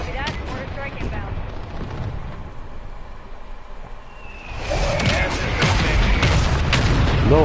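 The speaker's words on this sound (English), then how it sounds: "Copy that. Mortar strike inbound." Loud booming blasts of a mortar strike in the Warzone 3 video game, heavy explosions hitting in rapid succession after a quieter stretch, with chatter underneath.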